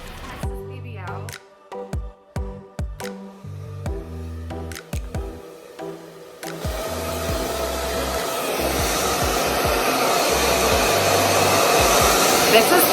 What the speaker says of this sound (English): A powerful blow dryer.